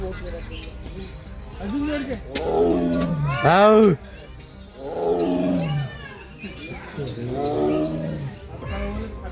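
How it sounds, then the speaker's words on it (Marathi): Deep, rumbling tiger roars repeat in several long bouts at the Van Vihar sanctuary, loud and close, with brief pauses between them and faint birdsong behind. "आता वाघ पहिला टायगर दूर होता पण दुसऱ्या बाजूला गेलो आणि हा जवळ होता तो ओरडतानाचा आवाज मस्त होता"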